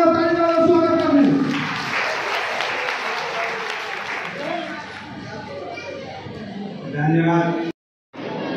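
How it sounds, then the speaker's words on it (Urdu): Audience at a public gathering in Robertsganj, Sonbhadra, applauds to welcome a speaker, a sustained burst of clapping from many hands that rises after a brief announcement, fades slowly under a voice, then swells again near the end. "آپ نے میرا تالی کا سواگت کر لیا"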